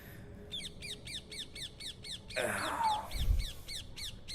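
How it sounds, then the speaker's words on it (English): A bird up in a tree in Greenwich Park gives a rapid, regular series of harsh caws or squawks. Louder noise swells midway, and a brief voice is heard. "I don't even know where that bird is. He's up in the tree somewhere."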